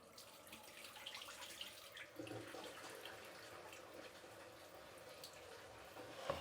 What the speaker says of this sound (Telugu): చూడండి 5వసారి కూడా వంచేస్తున్నాను నీళ్ళు.